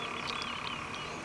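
Frogs croaking continuously in a pond, a dense overlapping chorus of rapid calls that stays loud and close throughout, with no voices.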